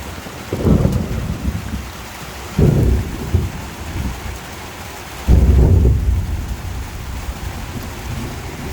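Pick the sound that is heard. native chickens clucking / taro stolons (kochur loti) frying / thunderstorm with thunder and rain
thunderstorm with thunder and rain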